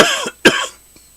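Two sharp, close coughs, the second a little stronger, followed by a faint throat sound. The coughs stand alone without talk.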